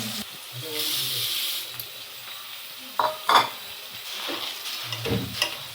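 Onions frying in a pan with a soft steady sizzle, broken by a few clinking stirring scrapes near the middle and end, close up with no talk.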